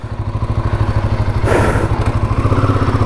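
A Royal Enfield Himalayan 450 and a KTM Duke 200 riding on the road, their engines giving a loud, steady pulsing drone with a brief gust of wind noise swelling midway; no talking.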